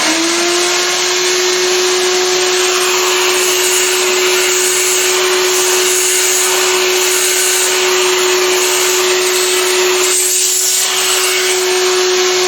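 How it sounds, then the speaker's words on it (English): A vacuum cleaner hoovers up dust and debris in a die-filing workshop, a loud steady motor whine running continuously throughout, with a brief change in pitch near the end as the nozzle sucks something in. "Quick hoover up."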